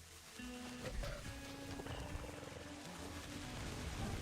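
A wolf on a TV show growls low and steadily, a rumbling animal snarl that carries on under faint background score without breaks.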